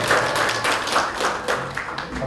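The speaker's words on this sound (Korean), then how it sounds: "박수로 환영해 주시면 고맙겠습니다" Audience applause at a Pohang party members' meeting welcoming committee members: a steady wash of many hands clapping together, moderately loud, with no talk over it.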